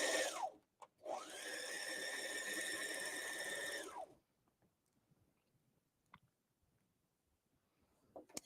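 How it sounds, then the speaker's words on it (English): A serger overlock sewing machine runs along a fabric edge for a cardigan, a loud steady whirring burst of about three seconds after a brief start, then stops, leaving quiet room noise and small clicks. "And now I might as well just serge down the other side."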